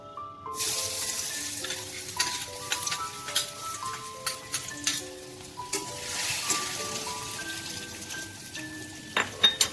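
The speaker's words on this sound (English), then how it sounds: "Here goes the potato in the oil." Potatoes fry in hot oil in an Indian karai wok, a continuous crackling sizzle with sharp pops and spatters running throughout, close and steady with no voices.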